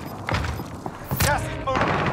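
Grenade blast in a battle royale shooter game: a heavy boom around the middle, layered with scattered gunfire thumps and crackle, with voices talking through the action.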